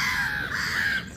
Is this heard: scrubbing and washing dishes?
no